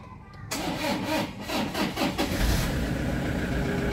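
A Toyota Innova diesel engine cranks and fires up without throttle, a short starter whir giving way to a loud, rough, clattering idle that settles and keeps running close by.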